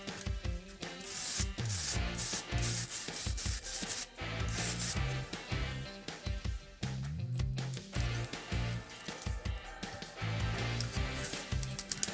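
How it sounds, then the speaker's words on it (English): Metal wire brush rapidly scraping thin 7 mm wooden beams to raise a wood grain texture for half-timbered model houses, a dense continuous rubbing and scratching with quick repeated strokes, close and loud throughout. "Now with the metal brush I create the wood grain very fast."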